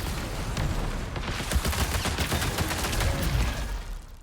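Rapid gunfire in the shooter game Marathon, a dense rattle of automatic shots with booming low thuds, steady and fairly loud for several seconds before easing off at the end.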